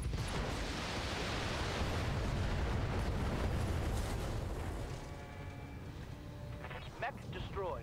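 A mech blowing apart in the BattleTech game, a long, loud rumbling blast that slowly fades, ending with a few faint tonal electronic chirps.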